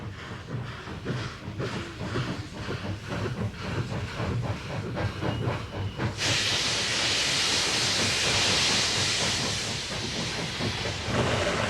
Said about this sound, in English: Here's a steam locomotive of a kind that's popular among railway buffs everywhere, and which has been built in China since the 50s.